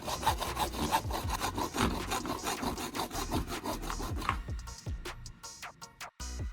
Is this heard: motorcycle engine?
no